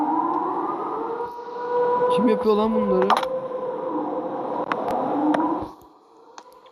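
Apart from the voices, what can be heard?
sirens in a video game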